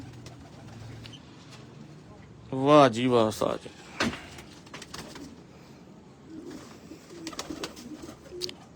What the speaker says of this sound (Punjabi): ਜੌਨ ਸਿਰੇ ਕਬੂਤਰ, ਘਰ ਦੇ ਪੱਕੇ, ਗਰਮੀ ਦੇ ਬਰਦਾਸ਼ਤ ਵਾਲੇ, ਫੀਲਡ ਦੇ ਚੈਂਪੀਅਨ ਕਬੂਤਰ